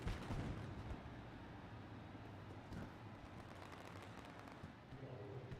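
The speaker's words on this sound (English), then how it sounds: "There's a lot of fireworks being shot off here tonight." Fireworks go off at night over a dirt late model race at Knoxville Raceway, making scattered pops and thumps that come and go. A continuous roar from the crowd and track sits underneath.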